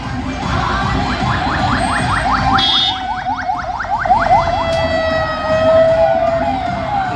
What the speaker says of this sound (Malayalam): അപകടത്തിൽപ്പെട്ട രോഗിയുടെ ജീവൻ രക്ഷിക്കാൻ ചീറിപ്പാഞ്ഞ് ആംബുലൻസ്